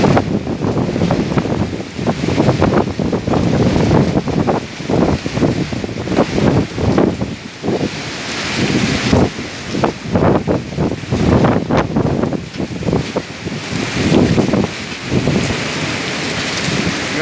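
Stormy sea waves crash and churn along the shore at Ahmetbeyli in a windstorm, a loud, continuous roar with gusting wind buffeting the microphone and surges rising and falling throughout.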